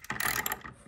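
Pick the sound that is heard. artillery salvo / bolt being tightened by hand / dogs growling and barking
bolt being tightened by hand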